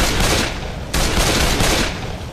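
Dense, continuous gunfire from Left 4 Dead fills the whole stretch, a loud fusillade of rapid shots with a brief break near the middle, played during a drunken zombie-hunting session.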